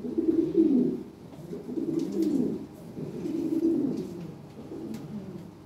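Lahori pigeons at a crowded pigeon market coo in repeated low, throaty rolls. The bursts come steadily one after another and stay close and fairly loud, with no talk over them.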